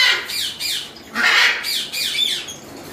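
Pet birds squawking loudly and close by in a series of harsh, repeated calls, about six bursts in quick succession with no voices in between.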